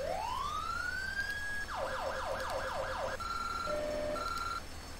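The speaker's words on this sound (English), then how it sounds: "Sirens." An electronic siren from a Ford Expedition fire chief vehicle in a Roblox game winds up in pitch, then warbles rapidly, then switches to alternating two-tone blasts, loud and steady without any talking.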